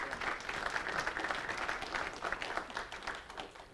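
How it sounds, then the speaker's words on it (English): Audience applause after a talk at an Acton Institute event, a steady dense patter of many hands clapping at moderate level, holding evenly for the full few seconds with no voices over it. "Let's give Alex a round of applause."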